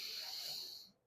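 A single slow exhale during a dead bug core exercise, a soft airy hiss close to the mic that fades out after about a second.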